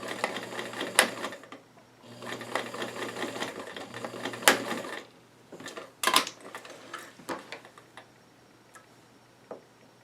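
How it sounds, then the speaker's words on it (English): A sewing machine stitches over existing seams on a pair of doll-sized five pocket jeans, running in close, rapid bursts of rattling needle strokes separated by short pauses and clicks. "I'm going to stitch it over, starting at the previous stitching"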